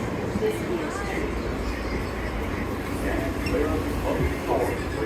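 Queens-bound E subway train riding, seen from the end of the car: a continuous low rumble and rattling roar with steady rail noise throughout and faint clanks on top.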